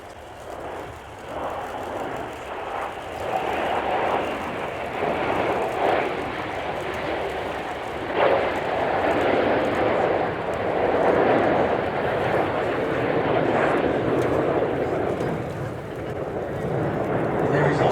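Hawk jet trainers, including Hawk T1, T2 and Royal Air Force Hawk 128, roar steadily overhead in a formation flypast at RIAT 2024, a loud continuous engine rumble that swells and holds, with a voice talking over it.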